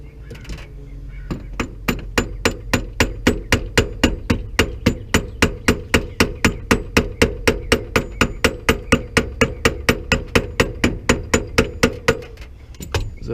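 A hammer strikes the steering shaft of a Ford F250 repeatedly in a fast, steady rhythm, dozens of sharp ringing blows close up that stop after about ten seconds.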